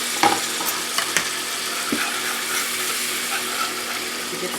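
Meat patties sizzle steadily in a frying pan, close and constant, while a spoon stirs with occasional light scrapes and taps against the pan.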